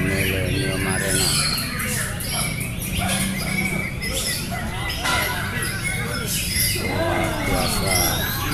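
Oriental magpie-robins sing and squawk at a bird contest in an arena, with dense overlapping chirps and calls over a busy crowd murmur, while someone talks throughout.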